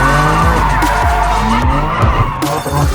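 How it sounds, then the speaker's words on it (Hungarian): A car at a motorsport festival in Kunmadaras pulls away with its tires skidding and squealing loudly over a low, revving engine, the screech rising and falling in repeated bursts close by. "majd így el fog indulni az autó"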